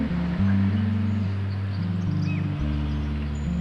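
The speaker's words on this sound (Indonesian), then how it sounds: "Misalnya ini suara gitar." Low, sustained plucked-string tones shift between notes in a slow pattern, steady and moderately loud, with faint background noise.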